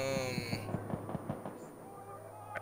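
Unsuppressed gunfire in Far Cry 5: a quick run of about eight sharp, loud shots in steady rhythm, then the firing stops and quieter game ambience remains.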